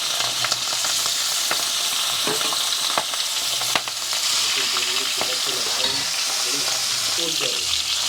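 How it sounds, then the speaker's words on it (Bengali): Four tangra fish sizzle steadily in hot oil in a village-style home kitchen, a continuous close frying hiss with occasional pops and spoon scrapes, no talking. "মাছটা আমরা লাল লাল করে ভালো করে ভেজে নেব।"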